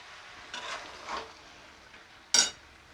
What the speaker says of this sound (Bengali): খুব ভালো করে কষছি এটা